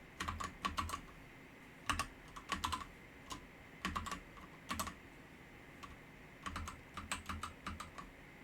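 A computer keyboard is typed on close by in short bursts of crisp clicking keystrokes, including key combinations for copy and paste, separated by brief pauses in a quiet room.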